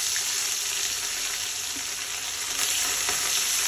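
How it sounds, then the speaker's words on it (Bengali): Pieces of rohu fish frying in hot oil in a pan, making a loud, dense, continuous sizzle and crackle close by, with no talking. "তো আমার তেলটা গরম হলেই আমি মাছটাকে ভাজবো"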